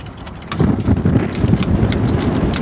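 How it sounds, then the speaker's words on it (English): Wind buffets the microphone on a small yacht in a loud low roar that surges in after a moment and keeps blustering, with faint knocking sounds scattered through. "See, the wind just pipped up there."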